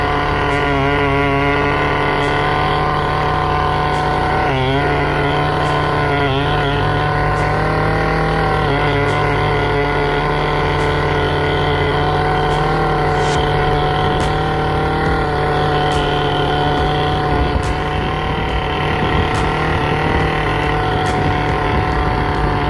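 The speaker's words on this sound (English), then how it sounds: "So this tiller is really doing a good job." Small garden tiller engine runs continuously at a loud, steady drone, its tines churning soil while digging a drainage trench for a French drain, with slight shifts in pitch as it works.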